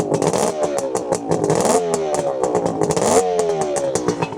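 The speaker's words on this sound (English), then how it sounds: "But give you a little listen to the engine." A 1976 Kawasaki KH400 Mach II two-stroke motorcycle with aftermarket silencers revs close by, its crackling, buzzy engine note rising and falling through repeated throttle blips with a rattly idle between, loud and with no talk.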